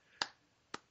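Two sharp hand claps about half a second apart, quiet and isolated.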